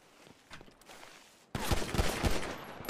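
Bursts of gunfire in the video game GTA 5 role-play, quieter scattered shots at first, then a loud, dense volley of rapid shots after a sudden jump in level.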